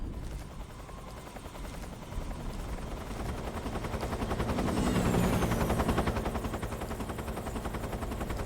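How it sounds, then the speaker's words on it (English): Loud helicopter rotor chopping in a fast, steady rhythm in the video game Metal Gear Solid 3, swelling as it draws nearer, with no one talking. "helicopter is so obnoxious"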